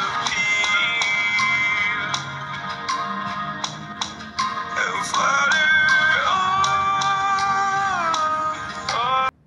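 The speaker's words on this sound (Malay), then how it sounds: "So jom kita dengar sikit lagu, nak tengok sedap ke tak lah." A song plays through the single bottom-mounted loudspeaker of a Wiko T50 phone, with steady tonal music and regular tapping beats at an even, fairly loud level and no talking.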